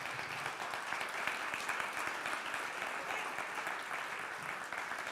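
An audience applauding at an Advent season gathering with a rabbi and a professor, a fairly faint but steady wash of many hands clapping that continues evenly throughout.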